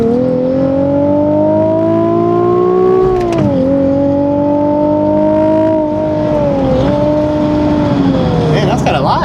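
A Nissan 370Z Nismo on its stock exhaust pulls gently in first gear on a street, giving a steady, quiet engine drone that rises slowly, dips with a shift, then continues.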